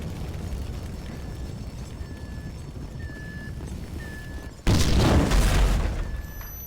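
A sudden loud explosion in GTA V bursts in after a stretch of quiet game ambience and short electronic tones, then rumbles and fades over a couple of seconds.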